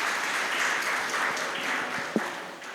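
Moderate applause from the audience at a school dedication ceremony, a dense steady patter of clapping that stays even throughout, with one sharper clap near the end.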